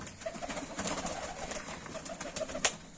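Broad-tailed fighting pigeons coo in a steady, close, fairly loud run of low throaty calls, with no voices over them.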